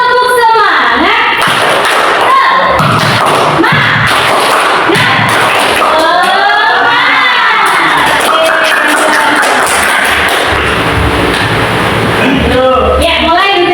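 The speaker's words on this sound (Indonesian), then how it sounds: "Tepuk semangat." Schoolchildren in a classroom clap and shout a spirit chant together, loud rhythmic claps and chanted voices, with crowd-like cheering and sharp clap bursts throughout.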